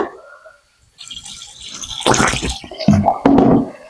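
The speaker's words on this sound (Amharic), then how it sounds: "አሁን ውሃ እንጨምርና" Water poured and sloshed over butter to rinse it while making Ethiopian clarified butter: a quiet start, then louder splashing gushes in uneven bursts, close up.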